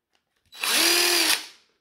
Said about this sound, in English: If I try it on a drill or an impact drive in this case